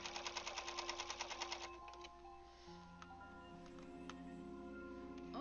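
A sewing machine stitching a charity quilt runs with a rapid, rhythmic needle clatter at first, then settles into a steadier mechanical hum with occasional ticks, fairly faint and close.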